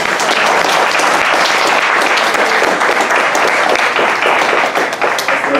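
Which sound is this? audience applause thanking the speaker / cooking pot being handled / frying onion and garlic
audience applause thanking the speaker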